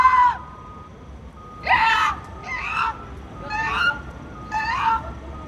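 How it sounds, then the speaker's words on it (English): Seagull calls, a series of five harsh, honking cries spaced about a second apart, fairly close and loud over a quiet low background, with no talking. "I have learned so much from you, seagulls. You use your voice so bravely like this."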